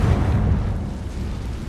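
In Hogwarts Legacy, the Confringo explosion spell lands with a deep, rumbling boom that rolls out and decays over a couple of seconds.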